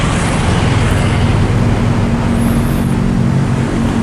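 Steady road traffic in Medan, Indonesia, with cars, small buses, freight trucks and motorcycles passing close by, a loud continuous engine and tire roar with low rumble throughout.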